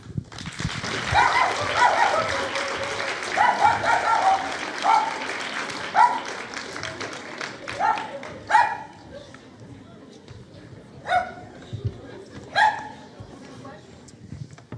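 A dog in the audience at an evening talk on humans and animals barks several times in short, sharp yips amid scattered applause and a speaking voice, the barks spaced out and growing more distinct toward the end.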